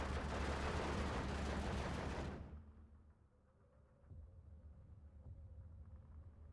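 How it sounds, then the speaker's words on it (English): Dense gunfire from the wartime strategy game Steel Division II crackles loud and continuous for about two seconds. It then drops to faint, scattered distant shots. "These guys has been shooting pretty much non-stop."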